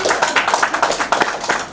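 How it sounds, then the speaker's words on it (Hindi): Close, loud clapping from a small gathering at an award event, a rapid uneven patter of hands with bursts of sharper claps, no voices over it. "जोरदार तालियां, मना नहीं कर रहे हैं"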